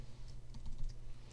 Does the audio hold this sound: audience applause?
no